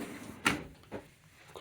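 A drawer on a Snap-on KRSC323 service cart slides open with one sharp, fairly close metallic clack, then a softer knock and a faint rattle of tools inside.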